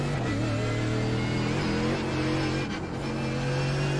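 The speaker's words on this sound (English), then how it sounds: "I think the car is a little bit too loud now." A Mercedes GT3 race car engine in the iRacing video game, at Spa-Francorchamps, roars steadily and loudly throughout, its pitch rising and shifting as it revs, with no one talking.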